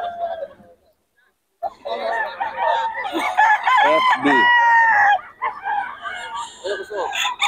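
Several roosters crow loudly and close together at a Bocaue market stall, overlapping drawn-out calls with clucks in between, while people talk nearby.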